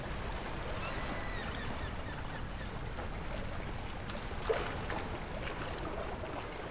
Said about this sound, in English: Oh, really great water sounds.